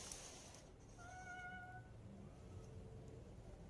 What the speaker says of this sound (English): they once again heard the sound of a cat